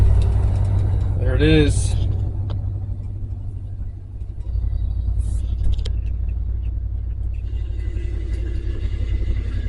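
A 1974 Ford F-350 with a 390 V8 cranks over on a cold morning and settles into a steady, deep idle rumble that carries on throughout, close by, with someone speaking briefly over it.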